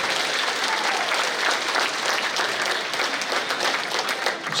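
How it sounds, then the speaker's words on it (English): An awards day audience applauds its instructors with steady, dense clapping that fills the room at close range, alone and without talk. "I just want to give them a round of applause."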